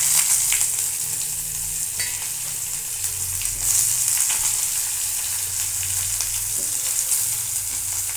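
Onions sizzle and crackle steadily in hot oil tempered with bay leaf, dried chilli and whole cumin, a dense continuous frying hiss close up with no talk, the soyabean manchurian pan loud throughout.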